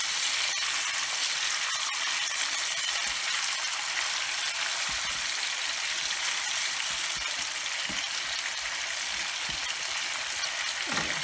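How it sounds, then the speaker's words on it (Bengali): Carp pieces fry in hot oil after being turned to the second side, giving a steady, dense sizzle that holds evenly throughout with a few faint clicks and no talking. "এখন ওপাশটা 1 মিনিট ভাজবো।"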